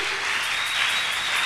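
A church congregation applauding, a loud, dense, steady wash of clapping held evenly throughout, with no voices over it.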